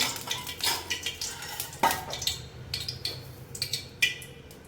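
Lentils roasting in a little sesame oil in a pan for a thuvaiyal, stirred with repeated scraping clinks and taps of a spatula against the metal, close and fairly steady over a low background hum.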